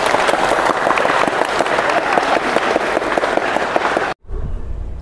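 An audience at a campus community programme with classroom games bursts into dense, steady applause for about four seconds before it cuts off sharply into quiet room tone.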